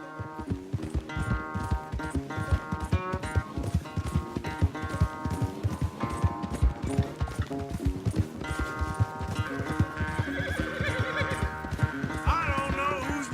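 A horse gallops in a Red Dead Redemption 2 race with rapid, rhythmic hoofbeats and occasional neighs, heard close over a continuous music score.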